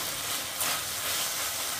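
Potatoes frying in a pan for an aloo posto, a steady close hiss and sizzle of hot oil that holds without a break, bright and fairly loud, with no talking.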